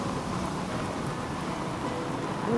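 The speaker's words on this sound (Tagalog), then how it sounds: "Halika na, umuulan na. Umuulan na." Steady rain hisses and patters continuously, a dense even wash of falling drops with no voices.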